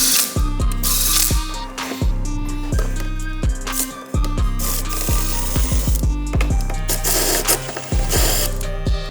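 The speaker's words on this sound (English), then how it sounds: "I'm gonna grab the Allen wrench. It's gonna be an 8 millimeter, and go ahead and torque those down." 8 mm Allen wrench ratcheting as it torques grade 12.9 bolts on BMW axle spacers, a busy series of quick clicking pawl bursts with short pauses between, close and fairly loud with no talking.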